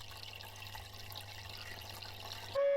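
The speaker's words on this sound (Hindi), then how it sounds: "तुलसी को पानी दिया" Water poured onto a tulsi plant in a home courtyard at early morning, a steady trickling, splashing flow running continuously for a couple of seconds before cutting off into a brief tone.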